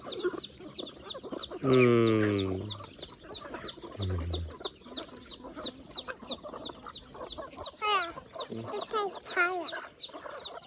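A flock of chickens clucks busily while being fed outdoors with ducks nearby, dense rapid clucks throughout, a loud squawk near the start and a few sharper cries later, close and lively.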